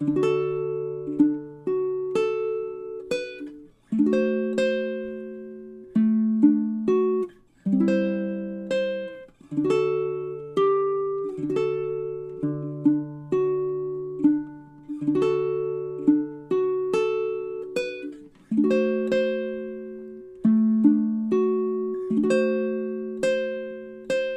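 D: A baritone ukulele picks the B-section melody of a song alone, close and clean. Plucked single notes and small chords follow an even, unhurried rhythm, each decaying quickly, with no voices.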